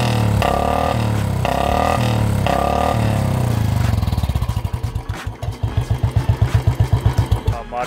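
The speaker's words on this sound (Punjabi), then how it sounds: "ਜਿਹੜੀ ਬੁਲਟ ਦੀ ਅਸਲੀ ਆਵਾਜ਼ ਹੈ ਉਹ ਪੰਜਾਬੀ ਸਲੰਸਰ 'ਚ ਹੀ ਹੈ" A Royal Enfield Bullet fitted with a Punjabi short bottle silencer idles with a deep, evenly spaced thumping beat that comes in about halfway through, loud and close, after a stretch of repeating mixed sound.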